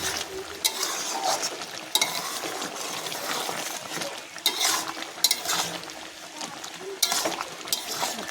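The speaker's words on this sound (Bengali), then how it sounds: "ভালো করে নাড়াচাড়া করে নেব।" A pumpkin, potato and drumstick curry with lentil dumplings is stirred in a pan: close, repeated spatula scrapes and clinks against the metal, with a soft simmering sizzle underneath throughout.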